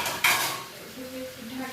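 A lid set onto a cooking pot, one quick metallic clank followed by a faint ringing rattle in a home kitchen.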